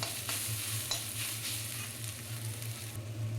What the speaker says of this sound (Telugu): అప్పుడప్పుడు ఇలా కలుపుతూ ఉండాలి ఇంకా కాసేపు వేగాలి పచ్చివాసన రాకుండా ఉండాలి